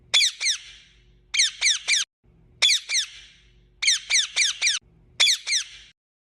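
Parrot calls ring out as sharp, high squawks in quick groups of two to four, repeated several times with short gaps, loud and close.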